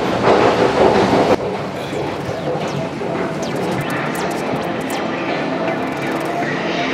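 A London Underground Waterloo & City Line train, a loud rumble at first that drops to a sustained rolling roar with faint rail clicks and squeals.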